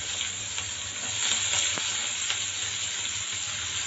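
Onions fry in hot oil with a bay leaf, panch phoron and two dried red chillies, making a dense, steady sizzle that is close and continuous throughout.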